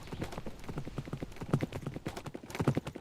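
Horse hooves clip-clopping in the Minecraft video game: a close, brisk, steady run of hoof clops throughout, with no talking over them.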